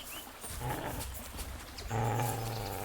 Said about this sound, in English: Watch out! He's got a dog!